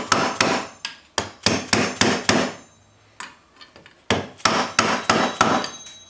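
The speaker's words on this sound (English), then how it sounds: "let me get my dead blow and we'll put them on all the way" A dead blow hammer strikes a drive-system rebuild, tapping parts down into place in quick bursts of three or four close, sharp knocks separated by short pauses, loud and near, with no talking.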